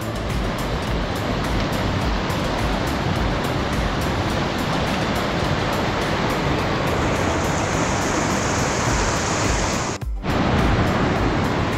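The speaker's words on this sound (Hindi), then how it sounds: "छोटा सा वाटरफॉल हमें क्रॉस करके जाना है" A small waterfall with fast-flowing water on a mountain trek in Uttarakhand makes a loud, continuous roaring rush that stays close and steady throughout, with a brief dip near the end.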